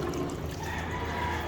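Rinse water poured off pork bones being washed, a short continuous splashing pour with a trickling quality, close and fairly loud, lasting about a second and a half.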